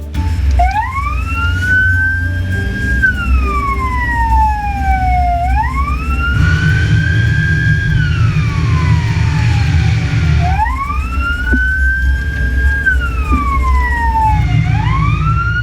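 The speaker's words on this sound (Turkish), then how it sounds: "hastaneye doğru sirenler eşliğinde yola çıkılıyor" A loud wailing ambulance siren rises and falls in long slow sweeps over a rumbling vehicle engine, close and continuous.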